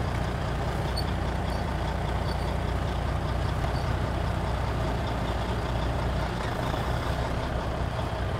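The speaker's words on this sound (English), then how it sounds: "I release the tractor parking brake and pull the red valve out and leave the trailer parking brake on. Now I will try to move the truck forward." A semi truck with its trailer parking brake set strains to pull forward, giving a loud, steady, close engine rumble and drone with no change in pace and no talking.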